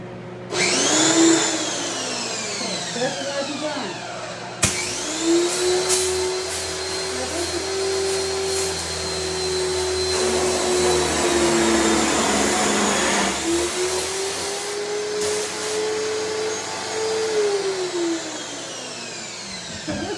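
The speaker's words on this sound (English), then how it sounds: "So this is ready to be pressure washed off. So I'm going to go turn that on." Pressure washer in a home shop, used to reclaim screens: a loud motor whine starting up, surging and pitching up and down under a steady spray hiss, running continuously with clunks and shifts in load.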